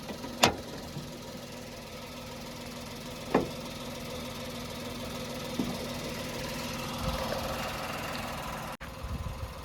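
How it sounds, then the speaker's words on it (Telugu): A Tata Tiago XZ+ car engine idles steadily with a low hum, bonnet open, broken by a few sharp knocks or clicks near the start and a brief dropout near the end. "ఇప్పుడు ఇంజన్ ఆన్లో ఉంది, మీరు ఇంజన్ సౌండ్ అయితే వినొచ్చు."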